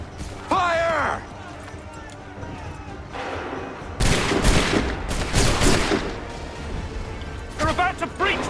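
A volley of musket fire from Assassin's Creed 3 Remastered crackles in a ragged burst of loud overlapping shots mid-scene, amid shouted commands and battle commotion, with voices calling out before and after.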